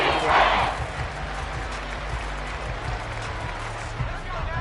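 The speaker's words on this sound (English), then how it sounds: "The Arrowhead crowd in full roar" A football crowd roars at Arrowhead Stadium, a broad, continuous wash of cheering and noise that stays loud and steady throughout, with a faint voice under it.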